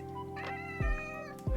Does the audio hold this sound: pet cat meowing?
yes